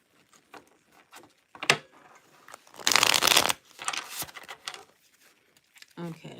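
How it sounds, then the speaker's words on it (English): Tarot cards shuffled by hand in a riffle-and-slide rhythm, with a dense burst of papery riffling in the middle and lighter taps and slides around it, close and fairly quiet. "I just want to shuffle this really well."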